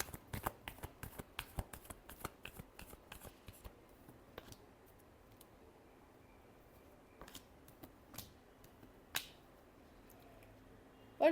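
Tarot cards being shuffled by hand in quiet, soft papery riffles and flicks in irregular bursts, with a few sharper snaps near the end; faint and close, no talking.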